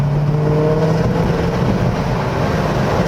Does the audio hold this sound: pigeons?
no